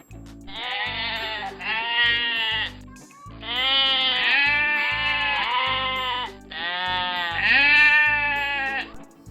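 Sheep bleat in three drawn-out, wavering calls, each several seconds long and loud, separated by brief gaps, with possible goat-like quavering in the voice.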